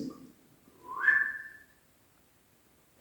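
A strange single whistle recorded inside Cave of the Winds rises and slides in pitch over about a second, clear against a near-silent background before a brief noise at the end.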